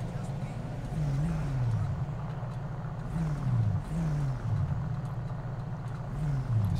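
In-game car engine in a roleplay driving game, a low steady motor drone with wavering revs rising and dipping every few seconds, moderately loud and continuous, with faint speech-like murmur beneath.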